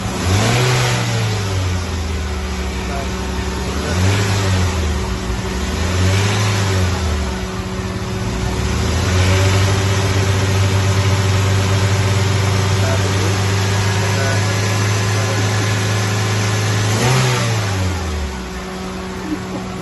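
A car engine revs during a maintenance check, held near 2500 RPM: a few rising and falling revs in the first seconds, then a long steady high-rev hum with one more blip near the end, loud and close with no talk.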